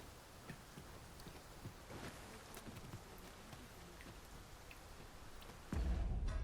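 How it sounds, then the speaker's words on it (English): Rain falls steadily in the Dragon's Dogma 2 video game, a soft continuous patter with scattered louder drops, rising to a heavier, fuller wash near the end. "And more rain."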